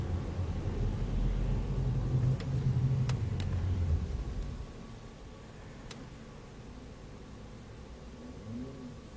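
A Volvo XC60 with an automatic transmission oil leak pulls away slowly, its engine a low, steady rumble that eases off halfway through and then settles to a quieter idle-like hum.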